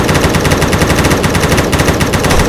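A machine gun fires from a moving car in a Roblox game as a continuous, dense, rapid rattle, very loud and close with steady rhythm and no voices.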